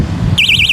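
A motorcycle anti-theft security alarm bursts on with a loud, close, warbling electronic siren that sweeps up and down rapidly and repeatedly, rising abruptly over a low rumbling background.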